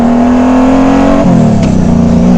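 A Honda Goldwing motorcycle with a full aftermarket exhaust revs loud and close, a deep continuous engine drone that shifts pitch briefly midway, with no talking.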